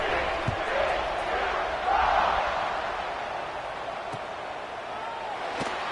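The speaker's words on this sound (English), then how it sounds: "this crowd is buzzing after that last score" A college football crowd against Baylor buzzes steadily after a score, a broad, sustained murmur of many voices filling the stadium, with a brief swell near the start and faint sharp knocks scattered through.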